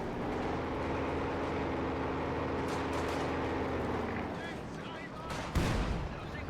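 A ZiS-3 artillery barrage rumbles in the wartime strategy game Company of Heroes 2, a dense roar of distant shell blasts with a heavier thud near the end, beneath a talking voice.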